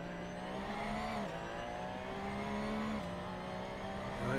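Race car engine in Assetto Corsa on PS4 at the Imola circuit, a loud, continuous drone whose pitch holds steady, dips briefly as the car shifts or brakes, then climbs again as it accelerates.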